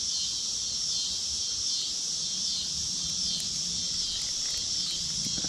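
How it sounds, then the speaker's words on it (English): Dense cicadas drone beside a creek in a steady, loud, high-pitched buzz that holds unbroken throughout, with faint background sounds beneath and no talking. "Here come these doggone cicadas."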